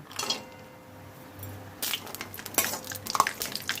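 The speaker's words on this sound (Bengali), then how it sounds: "কড়াইয়ে আমরা দিয়ে দিচ্ছি ঘি। প্রথমে আমরা ভেজে নিচ্ছি কাজু" Cashews fry in ghee in a wok, giving a soft sizzle under a spoon scraping and clinking against the metal, with a few louder stirring knocks toward the end.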